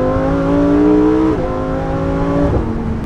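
A Lamborghini Huracan Performante accelerates hard on a speed-unrestricted road, its engine note climbing loud and close through two sharp upshifts, the pitch dropping briefly at each gear change before rising again.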